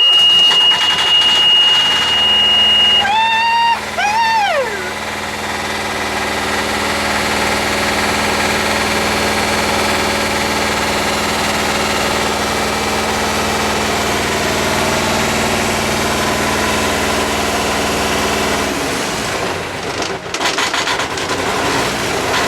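A sailboat's inboard engine cranks, catches and settles into a steady, loud, high idle that drones on for about fifteen seconds before it is shut off, with a brief whistling tone near the start.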